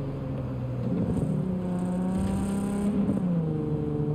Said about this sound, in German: Das Auto hört sich so an, als wenn der richtig Gas geben würde